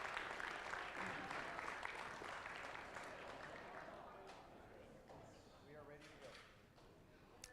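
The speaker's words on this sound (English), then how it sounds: "another generous round of applause for our sponsors" Audience applause for sponsors at a robotics competition qualifier, clapping that fades gradually while a voice speaks over the tail end.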